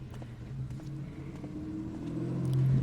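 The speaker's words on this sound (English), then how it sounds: "Oh, that was a very zoomy car." A fast car in the Final Fantasy XIV game zooms by, an engine rumble that swells and rises in pitch toward the end as it nears, heard alone at moderate loudness.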